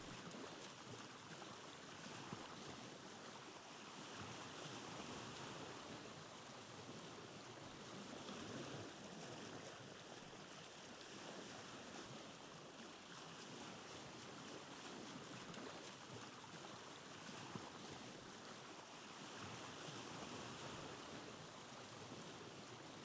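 A boat sails over waves in the Vintage Story video game, giving a continuous, even wash of water and surf, soft and steady throughout with no talk.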